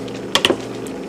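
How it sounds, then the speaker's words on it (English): Shrimp and broccoli with spices being stirred in a pan: a couple of quick close scraping clicks over a steady low background hiss. "We will simply stir it"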